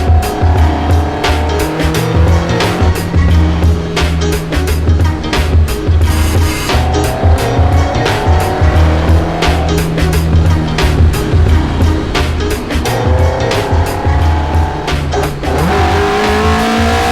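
Shakedown of a car running 67 mm individual throttle bodies, loud aggressive engine revving in repeated rising and falling sweeps with sharp crackles, close and continuous over road roar.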